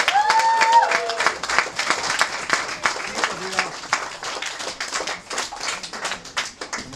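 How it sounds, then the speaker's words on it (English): Children and parents applaud at a father-son learning celebration in a synagogue study hall, with scattered claps building into a steady round under a murmur of voices and brief whistles or calls. "I want to hear a special round of applause for all of the kids who finished the fourth parak in Mishnayos Sukkah tonight"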